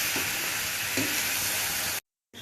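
Vegetables frying in a pan with ginger paste give a steady, loud broadband sizzle with a couple of faint stirring scrapes, then cut to brief silence near the end.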